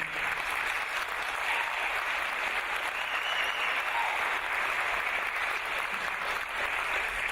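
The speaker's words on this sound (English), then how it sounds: "I would ask you respectfully to save your applause till the end" Sustained applause from a large audience, steady and dense clapping throughout with no breaks or voices standing out.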